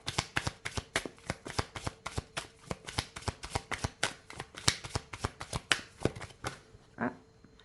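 A deck of Inner Star oracle cards is shuffled by hand, producing a quick, regular series of close, crisp slaps and riffles that stop near the end.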